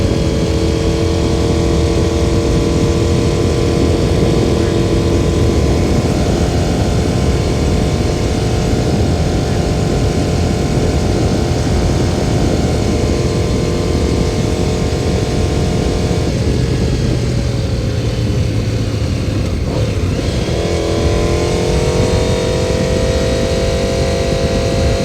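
A vehicle engine runs smoothly at light throttle on a surface street without misfiring, a loud steady droning hum with shifting tones as revs dip and recover around the middle.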